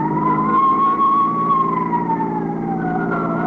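A wailing emergency vehicle siren from a radio drama, an ambulance and emergency squad responding, sweeps in a slow continuous rise and fall, loud and close over a steady engine rumble, with no talk.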